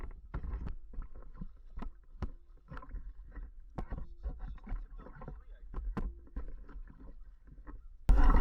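Inflatable air mattress paddled along a river, with soft rhythmic water splashes and strokes repeating close by under light wind noise, ending in a brief loud bump.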